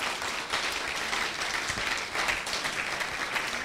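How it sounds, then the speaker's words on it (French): A church congregation at a Metro Church service in the DR Congo applauds and cheers, a dense, steady wash of clapping that continues throughout at moderate volume. "Est-ce qu'on peut acclamer le Seigneur?"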